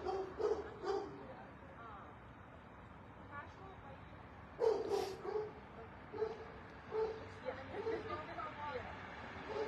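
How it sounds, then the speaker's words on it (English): Several dogs bark and yip repeatedly at a nighttime police incident scene, the bursts fairly distant and irregular over a murmur of background voices and ambient noise. "These dogs are just barking nonstop"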